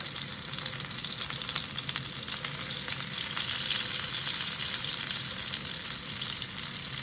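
A Japanese-style hamburger steak fries in a pan, giving a close, steady crackling sizzle that runs without a break.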